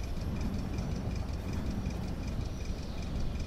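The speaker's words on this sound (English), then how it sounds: "It's just idling right now, which is fine by me." A car engine idles in the video game The Long Drive, a steady low rumble with a faint regular ticking running through it, heard alone.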